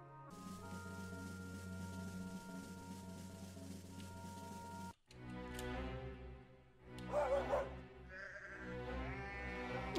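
Sheep bleat in a video game about a deer, a few wavering calls rising over a steady synthetic drone, followed by a short gap and then a louder cluster of animal cries.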